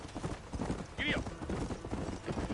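Horse hooves clip-clop at a steady pace in the Western video game Red Dead Redemption, a continuous rhythmic trot under game talk with a brief whinny.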